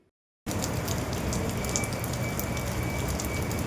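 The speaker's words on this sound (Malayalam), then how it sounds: "പക്ഷെ മഴ പെയ്തു" Steady, dense rain pours down continuously after a brief silent start, a loud constant hiss of drops striking surfaces nearby.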